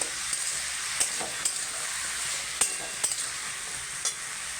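Bottle gourd (chal kumro) stir-fried with salt in a pan, giving a steady close sizzle broken by a few sharp scrapes and taps from stirring, with no one talking.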